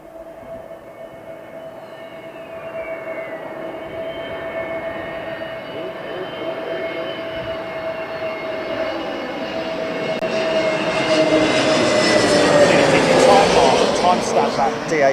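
A DHL cargo aircraft at Heathrow Airport gives off a steady tonal engine whine and rushing roar that grow steadily louder as it draws near, peaking close by at the end.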